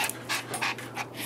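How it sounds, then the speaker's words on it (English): New pet dog panting close by, rapid rhythmic breathy huffs repeating several times over about a second. "Everybody leave comments about how cute my new dog is."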